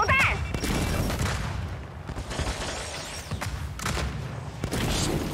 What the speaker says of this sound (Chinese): 要爆炸了，丢出破片手榴弹